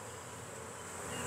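Honey bees buzzing in an opened hive box where they are building comb upward: a continuous, close, dense hum of many insects, steady and unbroken.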